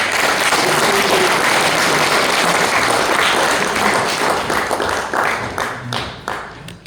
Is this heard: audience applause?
yes